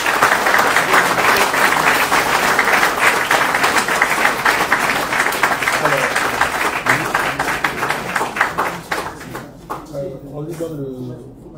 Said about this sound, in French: je vous présente avec déférence de recevoir pendant 30 secondes d'applaudissements le Laurent Kwasi Kofi Maturin.